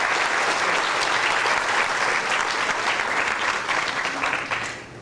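An audience claps for a new grocery store, Circle Foods, at a lecture: loud, dense, sustained applause from a crowd that holds steady and then fades out toward the end.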